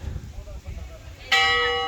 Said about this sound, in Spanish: Toca la campana, pero solo un golpe, ¿eh?